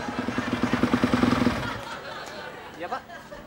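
Green motorcycle ridden close by, its engine chugging in a rapid pulsing rhythm before it cuts to a stop, with people chattering around it.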